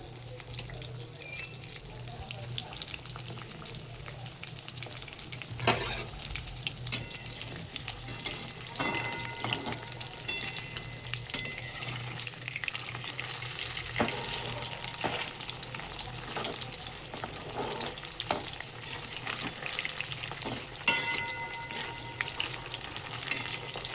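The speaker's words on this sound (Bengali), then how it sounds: "গ্যাসটা মিডিয়াম টু হাইতে রেখে ভাজতে পারো বা লো টু মিডিয়ামে রেখে ভাজতে পারো" Chicken pieces fry in oil in a pan on a gas stove, giving a continuous loud sizzle broken by occasional scraping stirs and clinks, with no talking.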